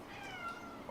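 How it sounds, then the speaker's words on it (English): A house cat meows for food, one soft, drawn-out call heard close by in a quiet room, with no talking over it. "He says meow."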